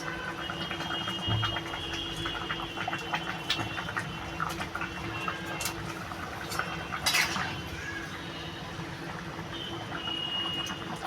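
Pieces of fried rohu fish go into a simmering ridge gourd and potato curry, a soft steady bubbling with light clinks of a spoon against the pot and a few sharper metallic taps.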